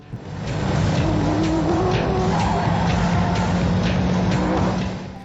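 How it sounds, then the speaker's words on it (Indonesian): Cars racing each other in a tense street chase, engines roaring continuously with long drawn-out tire squeals and skids rising above the steady motor noise, loud and close throughout with no talking. "Mobil itu kejar-kejaran dan balapan berlangsung sangat sengit."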